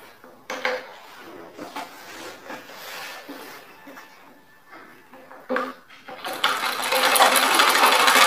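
A sewing machine stitches a fall onto a saree in short, intermittent bursts of whirring and clicking, ending in a longer, louder continuous run; the sound is close up and quiet between bursts.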